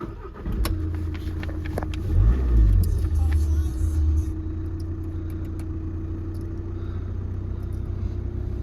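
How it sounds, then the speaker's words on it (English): A 2.0 TDI diesel engine in an Audi Q3 S line quattro cranks and fires up, surging briefly before settling into a steady, loud, close idle rumble that runs on alone. "Start the car up"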